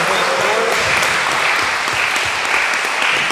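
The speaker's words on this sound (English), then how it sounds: "please give a round of applause to Mr. Chen" Sustained, loud audience applause at a civic association meeting, many hands clapping continuously throughout with no pauses.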